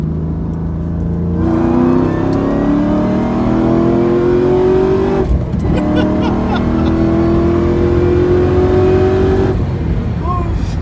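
Cadillac CTS-V sedan revving hard through a third-gear pull, the engine note climbing steadily, dipping briefly at a shift around midway, then rising again, loud and close from inside the cabin with some voice mixed in.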